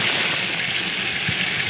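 Mustard seeds, cumin and curry leaves sizzle in hot oil in a pan while okra fry is being cooked, making a loud, steady, close hiss that continues evenly throughout.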